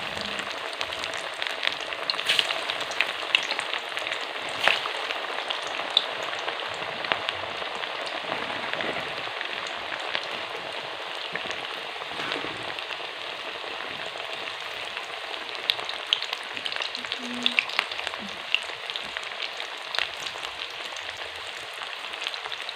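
Fish pieces fry in hot oil with a steady crackling sizzle and scattered sharp pops, moderately close and continuous throughout, with no voices.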